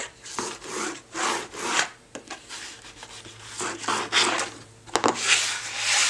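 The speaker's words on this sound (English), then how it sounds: "we'll rub the spine down on the box" Covering paper being rubbed down onto a slipcase box spine by hand, close repeated dry scraping strokes in an uneven rhythm with occasional taps, no talk.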